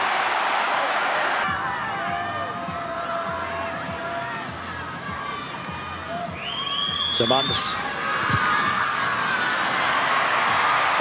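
Rugby stadium crowd in a Drua versus Brumbies match cheering and roaring in a broad, steady wash that swells near the end, with a commentator talking over it and a whistle-like tone briefly cutting through.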